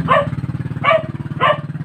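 Three short dog barks or yips at an even pace, over a steady low engine-like hum that runs underneath throughout.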